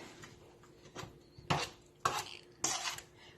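A utensil scrapes and clinks against a bowl while bread ingredients are mixed, with four or five distinct strokes that grow sharper and closer together, quiet and without talk.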